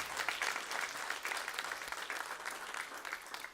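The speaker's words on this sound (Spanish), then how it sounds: "Denle un fuerte aplauso al Señor, hermano." A church congregation applauds together in a dense, sustained burst of clapping that fills the room, steady and fairly close, with no voices standing out.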